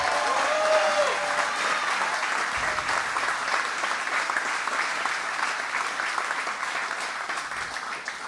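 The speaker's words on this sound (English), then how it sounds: "she deserves a round of applause" Sustained audience applause at a mayoral victory speech, a large crowd clapping densely and steadily for several seconds before easing off slightly at the end.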